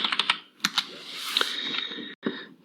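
Someone types a search on a computer keyboard, a quick burst of crisp key clicks with short pauses between clusters, close and clear with no talking.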